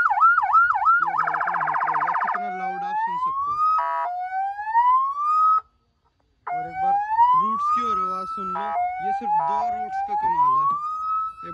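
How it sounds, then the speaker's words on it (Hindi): Electronic siren installed in a Maruti Suzuki Baleno car cycling through several tones: rapid warbles, a pulsing yelp, and rising wails, loud and close, with a brief silent pause midway. "गाड़ी में रूट्स और होटर भी, दोनों सायरन वगैरह सब कुछ इंस्टॉल है, वो बजा के दिखा देते हैं"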